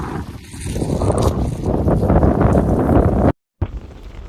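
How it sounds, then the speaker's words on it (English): Strong wind roaring across a snowy, boggy Scottish mountain in the Cairngorms, a loud, steady buffeting rush against the microphone that breaks off briefly near the end. "Still really windy."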